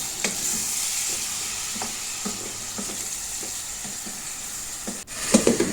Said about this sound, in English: I'm just going to be frying those beef